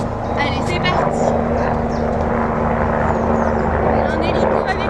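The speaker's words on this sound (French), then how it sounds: "Un hélico avec nous." During an outdoor no-equipment cardio sculpt workout, a helicopter flies overhead, its steady droning rumble filling the background while someone talks over it throughout.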